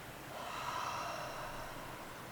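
A person exhales steadily through an open mouth during a slow yoga breathing exercise, one soft, breathy release of air lasting about two seconds, close and fairly quiet.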